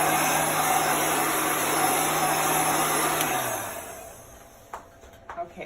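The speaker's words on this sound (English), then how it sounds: "This is an industrial heat gun." An industrial heat gun blows a steady, loud rush of air over a chalk board while crafting, then winds down and cuts off near the end, leaving a few faint handling clicks.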